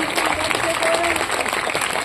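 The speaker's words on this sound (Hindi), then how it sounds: "तालियां तो बजा दो इन बच्चियों के सम्मान में।" An audience at a Jain religious sermon applauds in honour of young girls, with steady dense clapping throughout and a voice speaking faintly beneath it.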